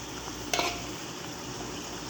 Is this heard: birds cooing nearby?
no